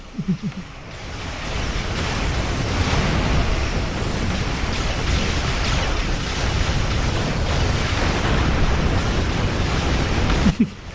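Starship weapon fire and explosions in the Star Trek Online space combat game, including polaron cannons; a dense, continuous roar of blasts and booms fills the stretch, loud and sustained, with no speech over it.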